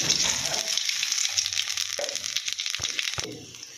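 Cumin seeds crackle and sizzle in hot oil, a bright continuous frying hiss with a few stirring knocks, fading slightly at the end.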